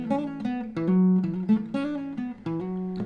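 Acoustic guitar fingerpicks a phrase from a song with hammer-ons, the plucked notes ringing close and clear over a few seconds.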